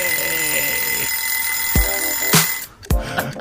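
A studio timer alarm rings on a radio show, a steady loud electronic ringing that runs on before a few sharp clicks and bursts cut it off, with no talk over it.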